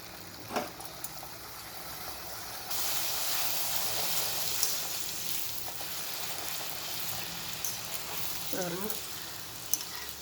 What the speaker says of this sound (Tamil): எண்ணெய் சூடாகிடுச்சு நம்ம இது ஒன்று போடலாம்